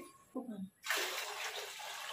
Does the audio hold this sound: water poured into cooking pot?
yes